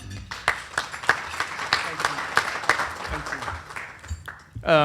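A modest audience claps at a Tiger Bay public policy luncheon, scattered hand claps forming a thin, uneven round of applause that tapers off before a voice begins.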